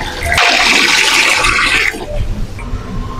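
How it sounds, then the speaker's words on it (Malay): Water gushes from a tap into a pot of washed rice, a loud, rushing splash that runs strong for about a second and a half, then tapers into lighter trickling and a few soft knocks. "sekarang kita isi dulu air dulu"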